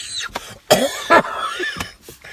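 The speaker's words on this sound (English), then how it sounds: "Oh dear me, you get me coughing, I won't stop." A person coughing in a few separate bursts, with throat-clearing sounds and short breaths between them, close and fairly loud in a quiet indoor setting.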